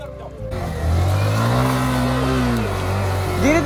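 A Yamaha R15 motorcycle engine revs steadily on an off-road climb, its pitch rising then holding, loud and close. Voices are heard briefly near the start and end.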